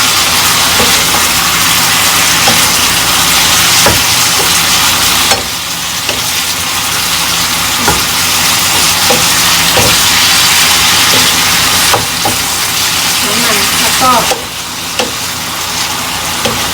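Beef for tacos sizzles loudly in a hot pan as it is stir-fried, a steady close frying hiss broken by occasional scrapes and knocks of stirring.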